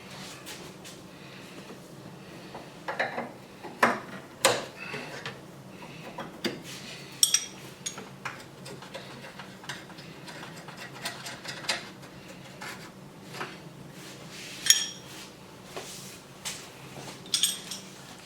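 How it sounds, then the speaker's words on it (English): Metal wrenches of 17 and 19 millimetres work loose the A/C line fittings on a Mercedes SLK230, giving faint scattered clicks, clinks and ratchet-like taps over a quiet background hum. "Then we'll take these lines loose and support with 2 wrenches."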